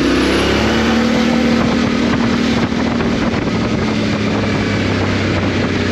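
Yamaha Ténéré 700 motorcycle with an MT-07 engine, ridden and filmed on a GoPro, its steady engine drone buried under loud continuous wind rush against the microphone, with no talk.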